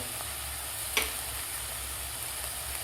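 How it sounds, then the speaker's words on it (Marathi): Turmeric, coriander powder, red chilli powder and garam masala sauté in a pan for kadhi khichdi. A quiet, even hiss and sizzle carries throughout, with one sharp clink of a spoon near the start. "आता व्यवस्थित आपल्याला हे सुके मसाले 1 मिनिटभर परतून घ्यायचे आहेत"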